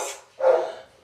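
A single dog bark close by, following a brief higher-pitched yelp-like sound, then fading out.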